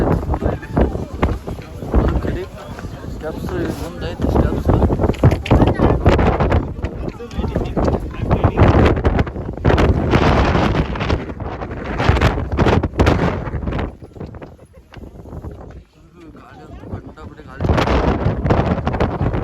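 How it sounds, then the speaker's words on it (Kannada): Gusty wind buffets the microphone atop the Great Wall of China, a loud, continuous low roar that eases briefly near the end while voices chatter over it. "ಚಳಿ ಗಾಳಿ ನೋಡು ಮಗ ಗಾಳಿ"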